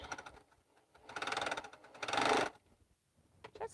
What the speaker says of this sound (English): And now I'm just sewing these little squares